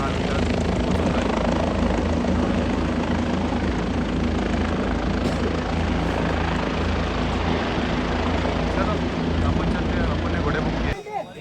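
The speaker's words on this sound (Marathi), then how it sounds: "बघा हेलिकॉप्टर चालू झालेलं आहे." A helicopter running at the Kedarnath helipad fills the air with a loud, continuous rotor and engine roar that holds steady close by for the whole stretch and then cuts off at the very end.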